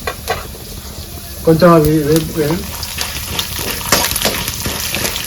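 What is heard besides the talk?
urad dal frying in a pan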